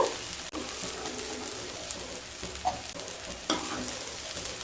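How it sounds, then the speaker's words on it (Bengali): Mixed vegetables for navratan pulao fry in a pan, a soft steady sizzle broken by a few scrapes and clinks of a spoon stirring, close but fairly quiet. "সবজিগুলো খুব ভালো করে ভাজা হয়ে গেছে, এবার তুলে নেব।"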